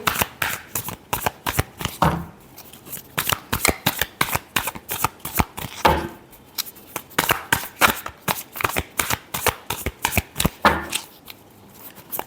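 Tarot cards are shuffled by hand in a steady run of quick riffling slaps and flutters, close and crisp, continuing for several seconds with no talk.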